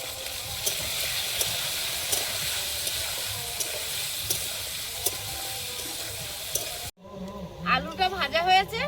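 Potatoes frying in oil: a constant hissing sizzle with occasional crackles and pops, moderately loud, cut off abruptly near the end, after which a voice speaks.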